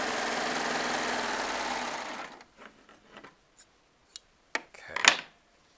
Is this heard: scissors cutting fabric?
yes